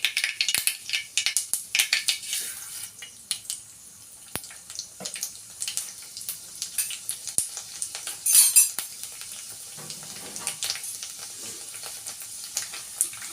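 A handful of rice frying in a pan, with light crackling sizzle, scattered clinks and rustling stirs over the cooking.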